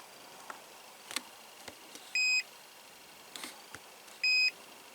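A Swan washing machine gives two short electronic beeps about two seconds apart, clear and close, with faint clicks and handling taps between them and no talking.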